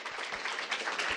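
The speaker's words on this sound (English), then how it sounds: "Let's all give her a big round of applause." A lecture audience claps for the speaker in a short, steady round of applause, dense and even throughout with no voices over it.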